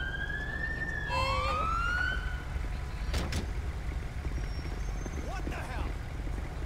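Ambulance siren in the LSPDFR mod for GTA V, wailing and yelping in rising and falling sweeps over a constant low engine rumble, with a few sharp clicks partway through.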